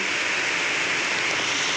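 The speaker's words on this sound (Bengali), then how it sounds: "দেখো পুকুরের মধ্যে বৃষ্টি পড়ছে" Rain falling on a pond, a dense, even hiss of drops holding steady throughout the short stretch, with no voices.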